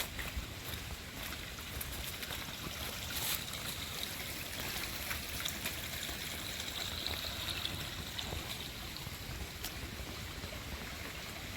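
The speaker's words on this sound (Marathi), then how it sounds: "आणखीन एक पाण्याचा प्रवाह लागला तिकडे दोन तीन छोटेसे धबधबे तयार झालेत" Continuous rushing of a forest stream near Badlapur with water splashing over two or three small falls, a steady outdoor wash heard from nearby, without speech.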